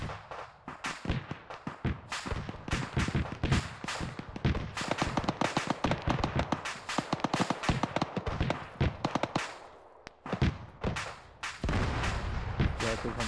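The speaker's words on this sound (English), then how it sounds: "It's got that gunfire from the west." Dense, sustained gunfire in the military video game ARMA 3, many sharp overlapping shots and booms throughout, loud and continuous with muffled radio-style voices underneath.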